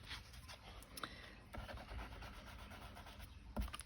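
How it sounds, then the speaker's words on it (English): Sandpaper lightly buffing the edges of a paper envelope folio, producing soft, close scratchy rubbing strokes in an irregular rhythm with a few sharper taps. "So just a light buffing, I suppose, of sandpaper."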